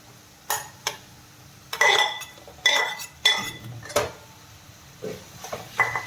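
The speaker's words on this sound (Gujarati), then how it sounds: "હવે જે આપણે પાસ્તા બોઇલ કરેલા હતા એ પાસ્તા આપણે આમાં એડ કરી દઈશું" Boiled pasta tipped into a pan and stirred with a utensil: a run of sharp metallic clinks and scrapes, several distinct knocks spaced across the stretch, close and moderately loud over a quiet background.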